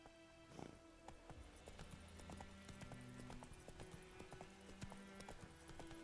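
A horse's hooves clip-clop steadily in The Witcher 3 as the rider heads off, with faint soft tones and music-like notes woven around the hoofbeats. The whole scene plays quietly, and no one speaks.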